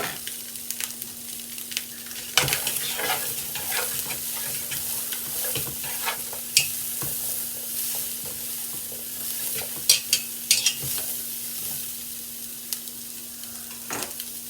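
Diced peppers hit the pan with browned Italian sausage, giving a steady close sizzle and fry broken by frequent scraping stirs and clacks, with a low constant hum underneath.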